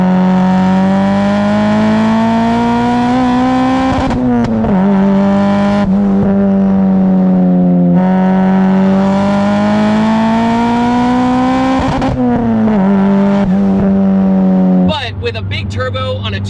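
Hyundai Genesis Coupe 2.0T with a big turbo, tuned to 520 hp, accelerating loudly under full throttle, its engine note climbing steadily through long pulls with brief dips at gear changes, close and continuous.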